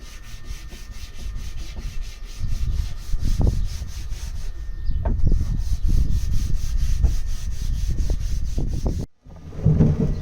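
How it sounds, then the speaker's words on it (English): Steady rasping strokes of sanding against wood on a sailboat's starboard side, repeated in an uneven rhythm, close by, with a short gap near the end. "continue the sanding on starboard side"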